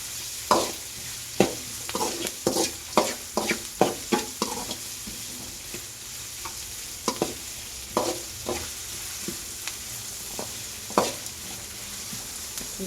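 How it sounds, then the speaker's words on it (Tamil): Onions sautéing in a pan for karamani sundal, with a spoon stirring and scraping in a run of sharp clinks and scrapes over a soft sizzle, busy at first and then sparser, with no talk. "பாருங்கள், வெங்காயம் நல்லா வதங்கிட்டுருக்கு."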